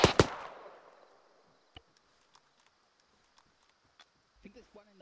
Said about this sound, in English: Chuck a frag over the top.